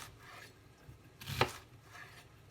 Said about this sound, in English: I'm going to cut the onion into very thin rounds like this